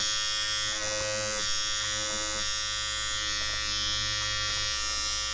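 Battery-powered electric seam ripper unpicking quilt stitches, giving a steady, close, high-pitched motor buzz with slight wavering as it works through the fabric, and no talking.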